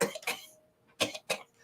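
A voice imitates a gentle cough during a tabletop role-playing session: two soft, close cough-like bursts, a pause, then two more short coughs, with no other talk.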